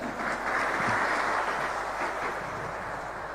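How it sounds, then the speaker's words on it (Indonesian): Steady, dense applause from an audience at an Islamic lecture by Adi Hidayat rolls on without pause, a broad wash of many hands clapping at moderate distance. "Bangun, berikan tepuk tangan."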